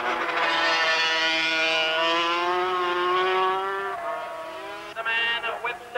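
Racing sidecar outfits at Donington in the 1988 FIM Sidecar World Championship scream past, a high engine whine rising and falling as one machine passes, followed by more bikes buzzing by near the end.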